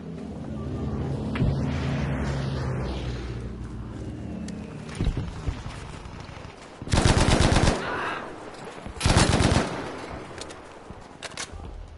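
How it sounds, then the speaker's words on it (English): Grenades fire in a video game: a low, rumbling stretch, then two loud, harsh bursts a couple of seconds apart. "Yeah, shoot those grenades."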